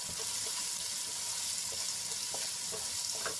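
Finely chopped onions sautéing in oil in a pan, with a steady, close sizzle and faint stirring clicks throughout.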